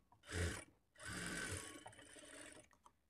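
Sewing machine running in two bursts while stitching a folded shape belt onto a blouse lining, a short run then a longer steady whir, close and loud with faint mechanical clicks trailing off.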